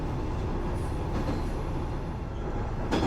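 A passenger train heading towards Tokushima, heard from inside the carriage as a steady, loud rumbling roll with faint rail clatter throughout, brightening briefly at the very end.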